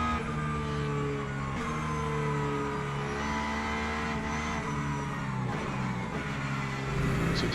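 Hypercar race engines scream in a multiclass racing video game, a continuous loud high-pitched whine with shifting tones as cars accelerate and pass, with occasional tire squeal.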